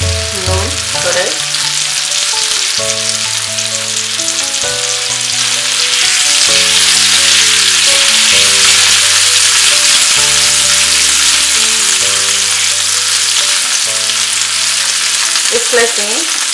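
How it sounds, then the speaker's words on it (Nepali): Potatoes for a Nepali potato curry fry and get stirred in a pan over medium-high heat, a steady loud sizzle running throughout with no talking, while music-like tonal layers sit underneath. "यसलाई चाहिँ अब मिडियम टु हाइटमा चलाउँदै गोल्डन ब्राउन हुने बेलासम्म फ्राई गर्नुपर्छ।"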